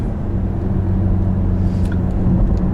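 A small car, quick for its size and making about 30 horsepower and 200 Nm of torque, is driven on a road in Bosnia, giving off a steady, loud, low engine rumble with road noise and no voices.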